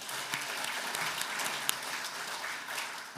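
A church men's prayer meeting gives warm applause of thanks to an elder after his sermon, a continuous even patter of many hands for about three seconds, moderately loud with no voices over it.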